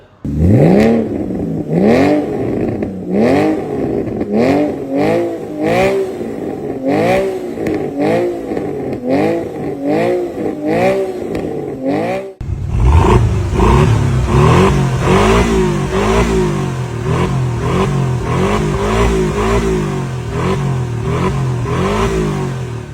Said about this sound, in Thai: ท่อที่เป็นแบรนด์ทั้ง ASC Muffer และ SWC Muffer เสียงเป็นอย่างไรลองฟังดูครับ